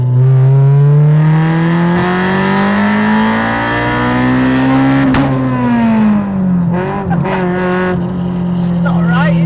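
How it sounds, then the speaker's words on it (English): A loud Honda Civic Type R engine, swapped into a Citroën AX, revs hard and climbs in pitch as VTEC engages, eases off, then revs again, with a voice talking over the engine noise. "I like that VTEC kicking in."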